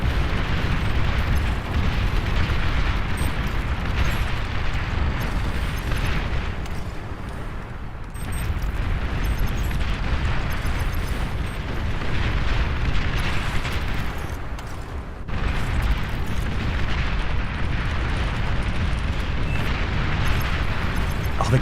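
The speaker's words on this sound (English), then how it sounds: "Oh, they got artillery up here." Artillery shells in the strategy game Beyond All Reason landing in a heavy, continuous barrage of booming explosions, loud and dense with only brief dips, no talk.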